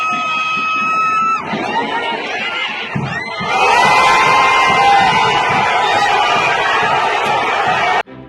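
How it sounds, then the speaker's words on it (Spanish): A stadium crowd in Bucaramanga roars for a goal at a football title match, a whistle-like tone giving way to a loud, sustained mass of cheering and shouting that fills the clip before cutting off abruptly. "nunca se había gritado un gol así en Bucaramanga"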